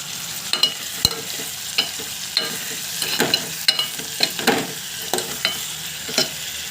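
Curry leaves and tomatoes fry in a pan with green chillies and rock salt for a raw prawn and green mango curry, a steady broadband sizzle broken by repeated sharp scraping stirs and spatula knocks, close and alone.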